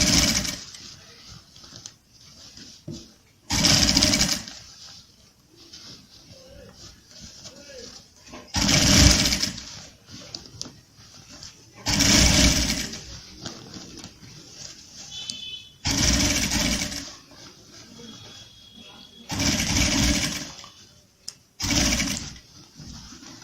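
Sewing machine stitching a kurta sleeve down to the cuff opening, running in repeated short bursts separated by pauses, loud and close, with someone talking between the runs.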